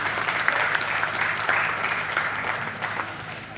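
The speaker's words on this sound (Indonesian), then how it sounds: "Tepuk tangan." Audience applause at the closing of a Pramoedya centenary event in the Blora pendopo, a dense, steady roll of clapping from a crowd, moderately loud and continuous, slightly easing toward the end.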